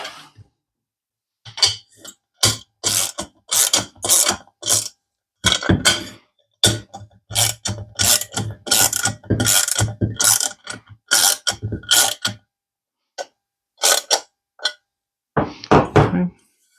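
A ratchet clicks in quick repeated bursts while tightening a bolt on a headlight mount during an LED halo headlight install on a Kawasaki Vulcan 650S. The bursts come close and distinct, separated by short pauses.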